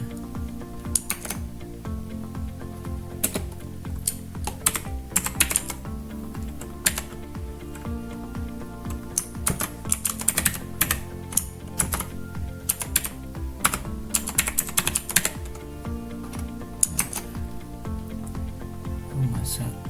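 Typing on a computer keyboard while entering a hospital name into a Laravel project, rapid irregular key clicks in close bursts over a steady background, with talking heard alongside.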